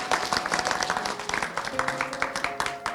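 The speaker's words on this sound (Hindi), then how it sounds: "जोरदार तालियाँ फादर जी के लिए" A church crowd claps steadily, a dense patter of applause filling the room with a few tonal sounds underneath.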